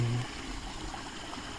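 A park stream in early-morning Tokyo flows steadily with a soft, continuous watery wash. The sound is close and low in level, with no talk over it.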